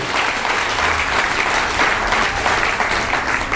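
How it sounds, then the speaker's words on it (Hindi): An audience in a meeting hall gives a strong, steady round of applause lasting a few seconds, dense and even, with little else audible over the clapping. "जोरदार तालियां, थैंक यू।"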